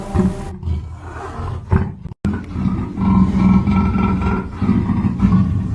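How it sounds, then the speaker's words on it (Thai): A black leopard's deep, rumbling roar swells and continues at length, loud and close, with a brief dropout midway before the rasping roar resumes. "ก็ได้ยินเสียงเสือดำคำรน"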